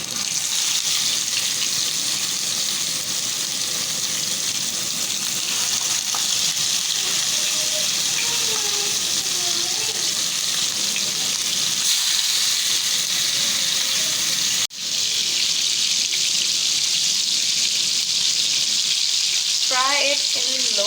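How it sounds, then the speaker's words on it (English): Chicken malai boti drumsticks fry one by one in hot oil over a low flame, giving a continuous steady sizzle with brief clinks near the end. "Fry it in low flame."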